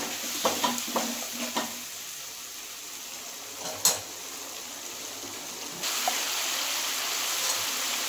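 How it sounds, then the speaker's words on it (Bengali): A spice paste of tomato and melon seeds sautés in a pan with a continuous sizzle, several spatula scrapes early on, a sharp clink midway and louder frying toward the end. "এই দেখুন বন্ধুরা, মশলাটা কষানো হয়ে গেছে।"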